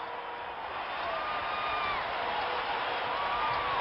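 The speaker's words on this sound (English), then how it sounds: "And listen to this crowd." Hockey arena crowd at a 1976 New England Whalers game against the Soviet team cheering after the win, a distant, continuous roar with scattered whistles and whoops.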